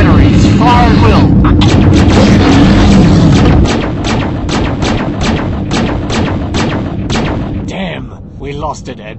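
A fleet's artillery batteries open fire in a dense, rapid barrage of loud booming gunshots, heavy and close, with rumbling between the blasts and a voice heard briefly over the fire.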